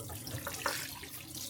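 Tap water running into a sink while food is rinsed, a steady moderate splashing with small irregular surges, no voices.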